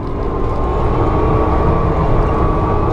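A forestry mulcher's drum spins at high RPM while being rolled back and forth over a tree, taking off about a foot at a time near Cunningham, Tennessee, giving a loud, steady, continuous mechanical roar close by.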